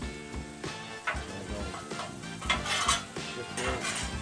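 Zucchini stir-frying in a little oil in a pan, with repeated clanks and scrapes of a utensil against the metal as the pieces are shifted around, over a faint sizzle.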